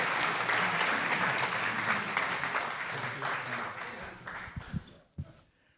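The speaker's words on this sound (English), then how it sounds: "So let's give them another round of applause." A church congregation at a Unitarian Universalist holiday service gives a round of applause, steady dense clapping that thins and fades out over the final seconds with a few last claps.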